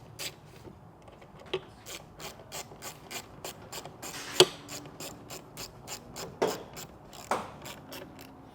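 3 mm hex head screws are driven into plastic with a steady run of rapid ratcheting clicks, quiet and close, with a few louder knocks scattered through.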